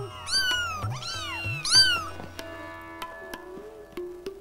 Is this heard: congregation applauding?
no